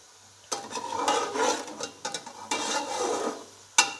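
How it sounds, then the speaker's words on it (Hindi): Chicken fried rice tossed and mixed in a pan, repeated scraping and shuffling strokes in uneven bursts, ending with a sharp clink of utensil on metal. "हम इसे अच्छे तरीके से मिक्स कर लेंगे"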